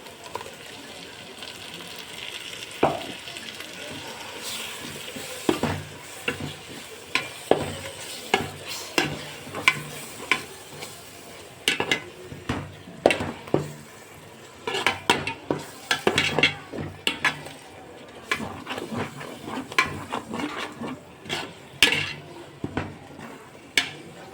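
Tomatoes and spices being sautéed in a pot for chicken biryani: a metal spoon stirs and scrapes with frequent sharp clinks against the pot over a faint background sizzle, steady and close throughout.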